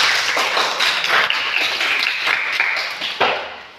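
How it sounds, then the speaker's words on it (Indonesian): Classmates clap for a fellow student in a classroom, a short burst of scattered, uneven hand claps from a small group, fairly close and moderately loud, with a few sharper individual claps near the end. "Tepuk tangan untuk teman kalian."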